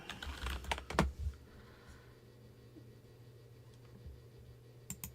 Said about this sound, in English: Oh, I'm typing into StreamYard.